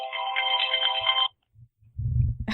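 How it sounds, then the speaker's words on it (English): A phone ringtone plays loud and close as a bright melodic tone for about a second, then cuts off. A brief quiet and some low rustling follow. "That's your phone, I take it."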